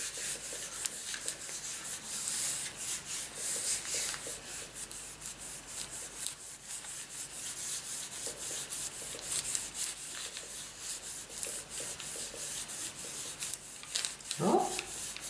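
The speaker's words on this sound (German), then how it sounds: "Drücken wir das an und reiben es schön an" Paper is rubbed by hand onto a monotype printing plate to transfer ink for making cards, producing soft, repeated scraping strokes at close range, fairly quiet and rhythmic, with a short louder scrape near the end.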